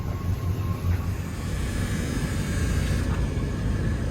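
A 1970 Oldsmobile Cutlass Supreme convertible pulls away, its engine a steady, loud low rumble with road and wind noise throughout, no voices.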